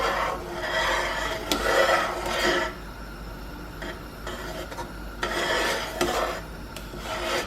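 A spoon drags and scrapes through boiling fresh blueberry jam in a pot, producing rhythmic rasping strokes in bursts separated by quieter stretches of low bubbling.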